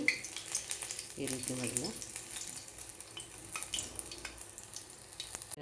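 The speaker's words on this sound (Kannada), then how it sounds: "ಒಲೆ ಹೊತ್ತಿಸಿ ಅದ್ರ ಮೇಲೆ ಒಂದು ಪ್ಯಾನ್ ಇಟ್ಕೊಂಡು ಅದರಲ್ಲಿ ಎಣ್ಣೆ ಹಾಕಿಬಿಟ್ಟು ಈ ರೀತಿ ಮೊದಲು ನಾನು ಮೆಣಸಿನ್ಕಾಯಿ ತೆಕ್ಕೊಂಡಿದ್ದೀನಿ." Green chillies frying in oil in a pan for onion bajji, a steady close sizzle with small crackles and a brief spoken phrase over it.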